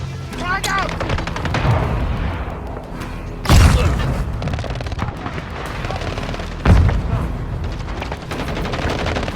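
A frag grenade explodes in a shooter game amid ongoing gunfire, giving two sharp loud blasts a few seconds apart over rattling shots, with voices shouting throughout.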